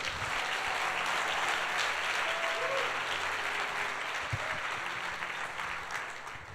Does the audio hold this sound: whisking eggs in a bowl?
no